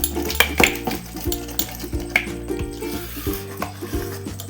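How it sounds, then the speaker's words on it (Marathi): Soaked dal batter for dahi vada being whisked by hand in a bowl, with soft scraping strokes and a few sharper taps against the rim under steady background music. "हलकी करून घ्यायची डाळ पूर्ण, थोडी थोडी फेटून"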